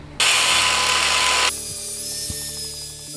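Two lock nuts being tightened on a router screw with a power tool: a loud, close, sustained whine that drops to a steadier lower hum midway, with a brief mechanical clunk near the end.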